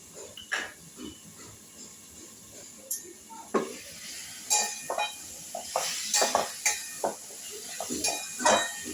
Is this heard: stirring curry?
yes